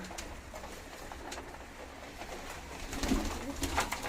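Mango pigeons coo softly inside a coop, low throaty calls rising and falling over a background hum, with a slightly louder coo near the end.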